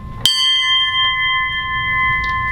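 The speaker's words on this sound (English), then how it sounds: "Ring the bell one more time for those on eternal patrol." A single memorial bell struck once for submariners on eternal patrol, a clear ringing strike that sustains with long, steady overtones and fades only slightly, heard alone at a base membership meeting.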